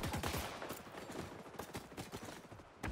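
Dense gunfire from the shooter game XDefiant, rapid overlapping shots and bursts pounding continuously for the whole stretch, loud and busy with impacts, with no voice over it.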